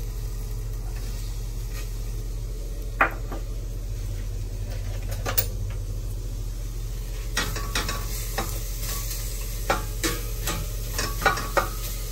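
Parrot fish frying in a pan without any sautéed aromatics, a low steady sizzle with scattered light clicks and scrapes of stirring, close up, no talk.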